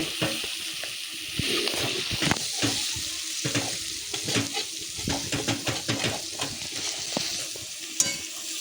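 Boiled goat tripe fries in a pan with a close, crackling sizzle broken by repeated scraping stirs and clinks of a spatula against the pan.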